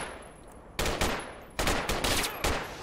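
Bursts of automatic gunfire in the Project Reality military game: two sharp volleys followed by a longer stretch of rapid, loud shots at close range, with no talking.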